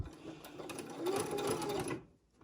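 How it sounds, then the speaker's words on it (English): A sewing machine runs a short back stitch, whirring steadily at close range for about two seconds before stopping abruptly, with no talk over it. "I'm going to back stitch"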